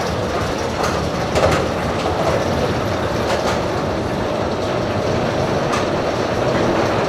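The Georgia Scorcher, a Bolliger & Mabillard stand-up roller coaster at Six Flags Over Georgia, roars along its track in a loud, steady rumble layered with rattling clatter and faint metallic squeals, with no voices.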